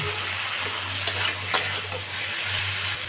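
Pumpkin and potato pieces with spices being stir-fried in a pan, giving a steady close sizzle with a couple of sharp spatula scrapes and a low hum beneath, no voices.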